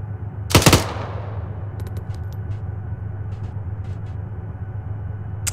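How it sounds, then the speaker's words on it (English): In Arma 3, an M240 machine gun fires one short, loud burst, then faint scattered distant shots follow over a steady low background hum. "two forty machine gun here"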